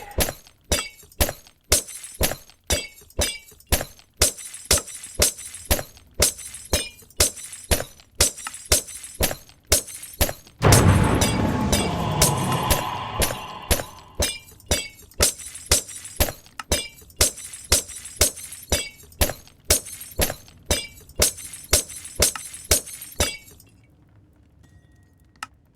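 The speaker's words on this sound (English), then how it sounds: "Glass shatter? Yeah, glass break." Glass blocks breaking over and over in Minecraft, a steady rapid series of loud shattering crashes at a regular rhythm, with a brief denser burst midway, then stopping abruptly.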